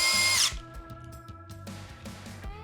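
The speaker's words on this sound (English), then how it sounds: "we switch over to our drive. And then we could set our fastener." Cordless drill-driver sets a fastener into a pre-drilled wood hole: a loud, brief whirring burst at the start, then low rumbling and clicking of the clutch, close and alone without talk.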